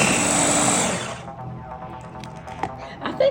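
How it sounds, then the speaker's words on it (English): A Ninja blender whirs at full speed pureeing strawberries with sugar, loud and steady for about a second before cutting out, followed by softer clinks and handling noises. "But I'm gonna make a strawberry puree with that. That's why I'm using my Ninja."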